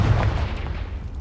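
A Confringo explosive spell in a Hogwarts video game lands as a single short, heavy boom that quickly decays into a low rumble.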